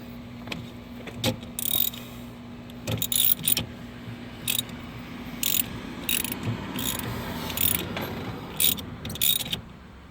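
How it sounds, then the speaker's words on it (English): Ratchet clicking while loosening a bolt on a 2013-2017 Hyundai Veloster 1.6L during dual clutch transmission replacement, short bursts of rapid clicks repeated irregularly, close and fairly quiet over a low background hum, no talking. "we're going to go ahead and remove that bolt"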